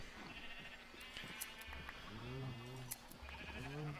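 Sheep in the Minecraft video game bleat several times, short wavering calls that come in a cluster near the end, over the soft clicks of play.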